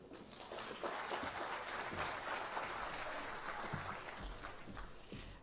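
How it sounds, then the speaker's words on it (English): Guests at a mining industry luncheon applaud a speaker, a broad steady wave of clapping that rises quickly and holds for several seconds before tapering, heard at a moderate distance. "please give a warm round of applause to Mr."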